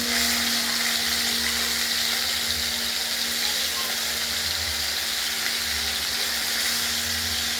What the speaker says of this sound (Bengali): এবার একটু ভালো ভাজা করেই নিতে হবে।